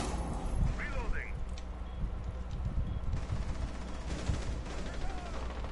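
Rainbow Six Siege gunfire crackles in quick, uneven bursts at moderate distance, mixed with game noise while players talk over it.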